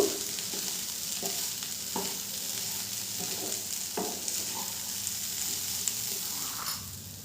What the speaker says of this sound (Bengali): মশলার সাথে চাল আর ডালটাকে খুব ভালো করে ভাজা ভাজা করে নেব।